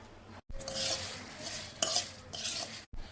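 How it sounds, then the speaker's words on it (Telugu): Dry red chillies roast in a pan for an Andhra-style prawn shell spice powder, giving a steady dry rustling scrape with brief stirring clinks, a short sharp knock midway and two tiny gaps, close and moderately loud. "ఎండుమిర్చి అయితే ఇప్పుడు సపరేట్గా వేయించుతున్నాను"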